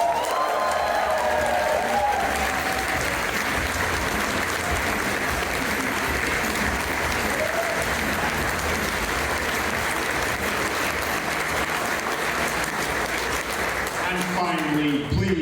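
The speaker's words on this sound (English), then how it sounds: "please give a massive round of applause to Mr. David King" A large convention crowd applauds in a sustained, dense wash of clapping with some cheering, steady and loud throughout, with faint voices mixed in and the clapping thinning at the very end.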